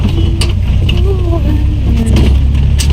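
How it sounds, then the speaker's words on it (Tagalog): A vehicle rattles and clatters loudly while driving, its loose parts knocking and squeaking over a steady low engine rumble, close and continuous. "medyo maingay talaga yung sasakyan natin. Marami ng mga alog-alog."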